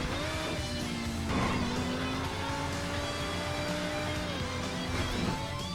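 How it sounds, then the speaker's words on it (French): A car drifts in a racing video game, its engine droning and whining in steady gliding tones with a brief scraping burst partway through, continuous and moderately loud with no voices. "on dérape, on part en drift"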